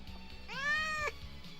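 A single cat meow in a Roblox video game, one clear rising-then-falling cry about half a second long over a low background hum.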